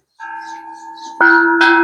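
A bell-like metal gong hung in a village temple sounds for a Buddhist Lent merit-making day in Kalasin, Thailand, ringing with a steady sustained tone, then struck again louder with a bright clang near the end.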